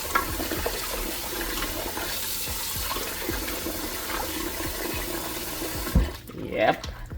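Tap water runs steadily into a sink while oxtail is rinsed, a continuous close gush that stops near the end, with someone talking over it.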